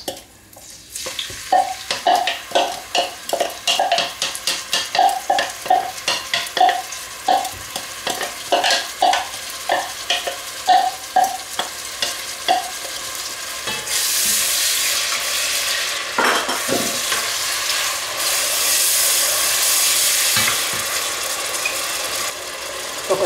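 Grated or finely chopped onion and garlic frying in olive oil in a pan. A spoon scrapes and stirs in a rapid rhythm, then gives way to a loud, continuous sizzle.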